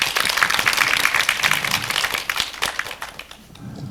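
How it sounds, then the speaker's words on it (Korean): Audience members at a film screening talk with a poet applaud, a lively burst of clapping that stays full for a few seconds, then thins and fades toward the end. "일단 감상평을 들으셨는데 박수 한번 부탁드리겠습니다."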